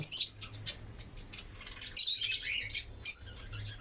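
Several pairs of caged breeding birds chirp in quick, high bursts, some calls clustered and others isolated, fairly close with a low steady hum beneath.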